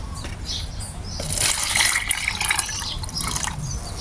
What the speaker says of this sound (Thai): เราจะใส่น้ำซาวข้าว 1แก้วนะครับ